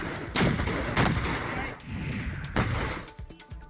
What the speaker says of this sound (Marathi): गोळीबाराच्या आवाजानं संपूर्ण परिसर हादरला